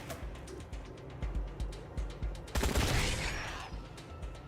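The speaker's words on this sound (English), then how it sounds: "Quan here can finish this off with a well-placed shot from his assault rifle," Assault rifle fire in the Wasteland 3 game, heard as a string of sharp separate shots followed by a louder, denser burst near the middle, with no talking.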